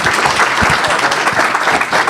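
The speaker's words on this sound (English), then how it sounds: "So let's give them a big round of applause." A council-meeting audience in Chino gives sustained applause, many hands clapping densely and steadily in a large room, loud throughout with no voices on top.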